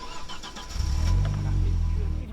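An Audi RS2 engine fires up after a brief crank and settles into a low, steady idle, close by, with faint voices and movement just before it catches.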